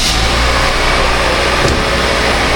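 A Toyota Premio car engine runs steadily at close range, a continuous loud broadband hum with no speech.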